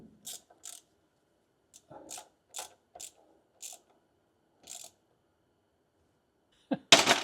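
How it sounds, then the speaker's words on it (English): A wrench ratchets on a transmission oil cooler line fitting of a 722.3 diesel transmission: close, crisp clicking strokes in short irregular bursts separated by silence, ending in a sudden loud burst of noise. "now I can take a wrench to it."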